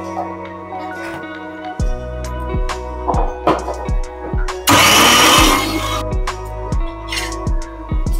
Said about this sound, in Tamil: கொஞ்சமா வாட்டர் போட்டு மிக்ஸி அரைச்சுக்கலாம்.